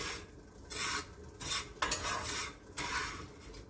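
Sugar caramelizing in a pan on the stove, stirred as it boils. Soft scraping swishes repeat in a loose rhythm over a low bubbling hiss, close and fairly quiet.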